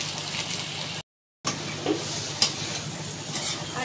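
Spices being stirred and fried in a pan for a spinach and prawn curry with turmeric, cumin and chili powder: a steady close sizzle with scraping stirs, briefly cut to silence partway through.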